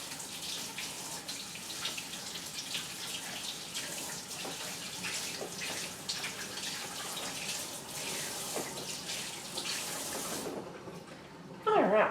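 Onions being rinsed under a running tap, a steady close hiss and splash of water that continues for several seconds before the flow cuts off near the end.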